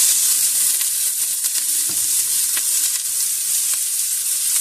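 Onions and garlic frying hard in hot anchovy oil for spaghetti with tomato sauce, a steady close broadband sizzle with faint crackles and a few light pops, no voices.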